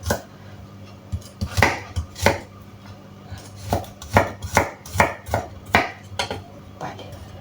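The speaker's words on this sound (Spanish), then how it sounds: "Ahora lo picamos un poco más, porque quedan los trocitos muy grandes." A knife chops cooked beans on a board in repeated firm strikes, first a few scattered blows, then a quick, regular run of close, loud chops.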